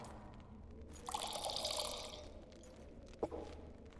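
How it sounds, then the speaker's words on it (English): A drink poured into a cup in The Witcher 2 game, a soft liquid stream lasting about a second before tapering off, followed by a small clink. "Didn't sound like he poured nearly as much for Geralt."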